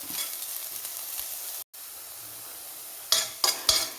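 Okra stir-fries in oil for a Kerala-style thoran, a soft, steady sizzle with a brief pause, then a few sharp scraping stirs of a spatula against the pan near the end.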